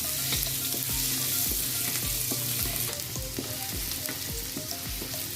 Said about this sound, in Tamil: இது கொஞ்சம் பூண்டு கொஞ்சம் ப்ரௌன் ஆகுனா தான் நல்லா வாசமாக இருக்கும்.